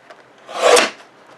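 Cardstock being cut to size for a handmade card, heard as a single brief scraping swipe near the microphone that swells and fades within about half a second.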